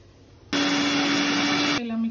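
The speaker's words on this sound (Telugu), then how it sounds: "ఇలా మిక్సీ పట్టి పెట్టుకోవాలండి" A kitchen mixer grinder switches on abruptly and whirs loudly at a steady pitch while grinding a green paste for chicken pulao, then cuts off and winds down with a fading hum.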